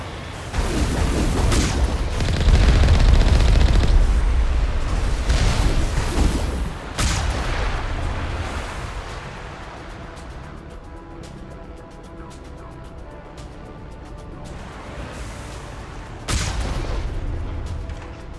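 Artillery fire in the Mass Effect video game, heavy booms and rumbling blasts that are loud at first, then fade into a lower, more distant battle din with another impact near the end.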